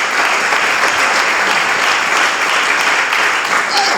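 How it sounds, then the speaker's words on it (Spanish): A church congregation applauds in praise during a sermon, with steady, dense clapping filling the room at close range for the whole stretch, without pause or fade. "Dele palmas al Cristo de la gloria."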